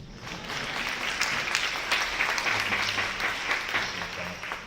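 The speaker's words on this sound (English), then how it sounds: "Yes, you can clap." Audience at a launch event claps for a standout story, a moderate, steady round of applause with scattered louder individual claps and a faint low hum beneath.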